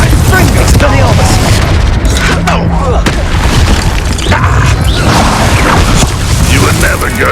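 Expelliarmus spell effect from Hogwarts Legacy: loud, dense booming blasts and crashing impacts filling the whole stretch, with a voice faintly mixed in.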